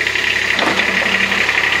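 Kubota RTV-X1140 utility vehicle engine running steadily at idle nearby, a continuous mid-pitched drone with slight knocking texture while the hydraulic bed is raised.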